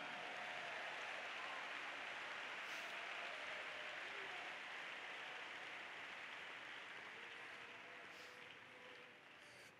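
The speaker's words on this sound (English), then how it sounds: "Can we clap our hands and give him praise right now?" Church audience clapping hands in praise during a youth conference sermon, a steady, dense wash of applause that stays fairly even for about ten seconds before tapering slightly, with no voices standing out.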